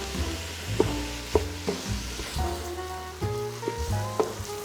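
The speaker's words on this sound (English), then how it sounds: "we're gonna keep stirring this around and make sure this meat gets cooked" Lean ground beef sizzles steadily in a pan while a utensil stirs and scrapes it, with several distinct clanks and scrapes over the constant frying hiss, close and fairly loud.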